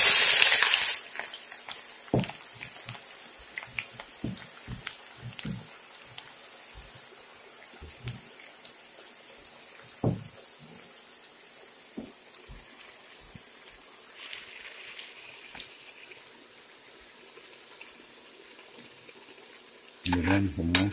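Onions tipped into hot oil in a kazan sizzle steadily, with scattered crackles and pops close by. Louder bursts come at the very start and end, and a voice speaks briefly.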